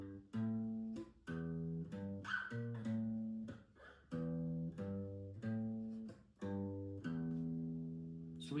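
Basic version of a riff on guitar, short chord stabs in the familiar stop-start rhythm, clean and fairly quiet, with no talking.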